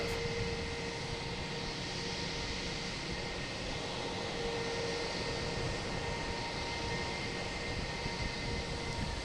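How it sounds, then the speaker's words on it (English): A Delta airliner from Newark arriving at Logan Airport in the early morning, a steady distant jet engine roar with a faint tonal whine that holds evenly throughout, with no talk. "Next to arrive is Delta. How did I miss it? There it is. Coming in from Newark."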